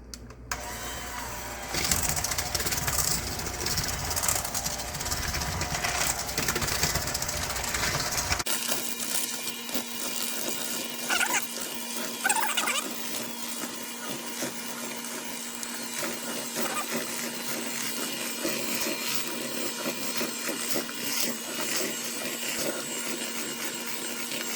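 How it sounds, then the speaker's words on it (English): An electric mixer beats cinnamon roll dough with a steady, loud mechanical whir. The motor tone shifts partway through as the mixing continues without pause. "now you mix this up with the mixer"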